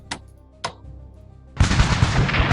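Artillery fire in a strategy video game battle during the conquest of Mexico, two sharp isolated reports followed by a sudden, sustained roar of heavy rolling fire.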